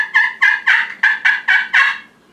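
A slate turkey call scratched with a striker, producing seven raspy yelping notes in an even rhythm, loud and close, then stopping.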